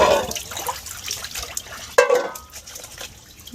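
Water sloshing and splashing while live singhi fish are washed, uneven bursts of liquid movement with a sharper splash midway.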